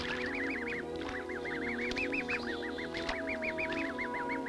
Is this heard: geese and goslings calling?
yes